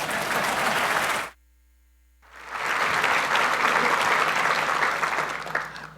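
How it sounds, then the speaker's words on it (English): An audience at a Baylor University campus dedication ceremony gives loud, dense applause, broken by a sudden second of silence before the clapping resumes just as strongly. "a big round of applause"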